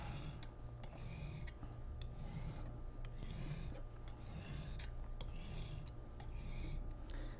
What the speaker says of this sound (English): So I'm going to continue sharpening this as a single bevel knife.